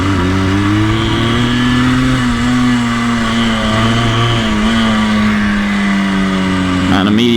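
A 1984 Yamaha RS 125 two-stroke motorcycle accelerating on the road to about 50 km/h, its loud, buzzy engine note steady and then climbing, heard close up from the rider's position with continuous wind noise.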